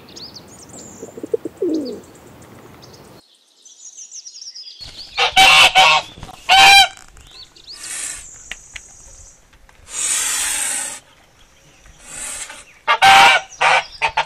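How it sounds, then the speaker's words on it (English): Goose honking in loud, harsh bursts: a pair of close calls, then a longer run of sharp, nasal honks spread over several seconds, heard alone without talk. "Goose."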